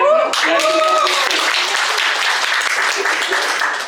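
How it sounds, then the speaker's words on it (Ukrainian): A stand-up club audience applauds steadily, a dense and fairly loud wash of many hands, with a voice and laughter briefly audible at the start before the clapping carries on alone. "До речі, Ярик, е, ваші оплески"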